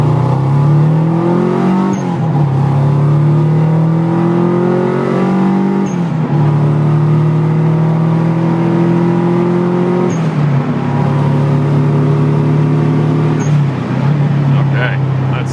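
A Subaru Impreza wagon pulls hard uphill from second gear, its engine note climbing repeatedly and dropping at each upshift, loud and close with a driver talking over it.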